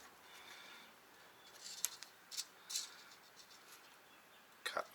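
Scissors cut an LED strip along its marked line in a few short, sharp snips scattered over a quiet, close background, with a final quick pair of snips near the end.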